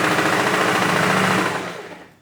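A sewing machine runs steadily in one continuous, close, loud whirring burst as it stitches the fabric of a princess dart blouse with lining, then slows and winds down at the end, with no talking.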